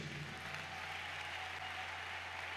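A church congregation applauding during a French-language sermon, a steady wash of clapping from many hands that holds evenly throughout, with a low hum beneath.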